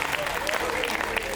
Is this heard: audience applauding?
yes